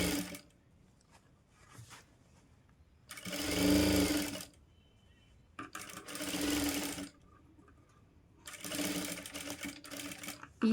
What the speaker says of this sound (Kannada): ಸೊ ಇವಾಗ ಇದನ್ನು ಸ್ಟಿಚ್ ಮಾಡಿಕೊಂಡು ಹೋಗಬೇಕು